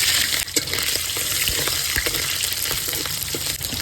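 Shrimp and raw green banana cooking in a pan in a Bengali village kitchen, a loud continuous sizzle with light scraping stirs throughout, close and without talk.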